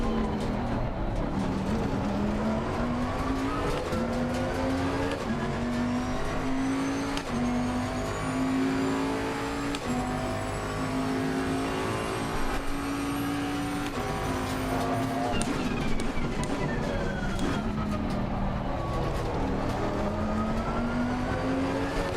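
A race car engine in the Assetto Corsa racing game revs steadily during a 24-hour endurance race at the Red Bull Ring, a loud continuous drone that rises and dips with gear changes and braking, with no talk.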